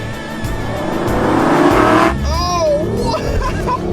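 A V8 Aston Martin Vantage launching off the line with launch control, a loud close engine roar climbing to a peak then easing as a high rising whine sweeps upward, with a voice speaking over it.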